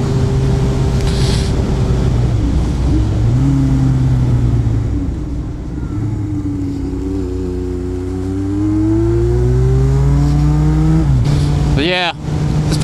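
A 1994 Suzuki motorcycle engine runs while riding in cold weather, its steady drone rising and falling with shifts and revs, loud and close over wind rush, with a brief burst near the end.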